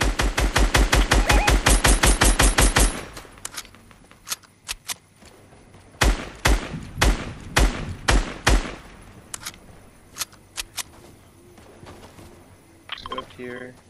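Fortnite gunfire starts as a rapid, loud automatic burst, then breaks into scattered single and paired shots with quiet gaps between them.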